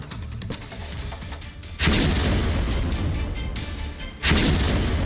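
Israeli air strikes on Hezbollah positions in Lebanon, heard as two sudden heavy booms a couple of seconds apart, each opening into a long, loud rumbling roar over a noisy background.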